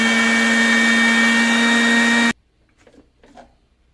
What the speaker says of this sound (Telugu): చిన్నది మిక్సీ జార్ తీసుకొని మొత్తం కూడా అందులో వేసేసుకొని మిక్సీ పట్టుకోవాలా.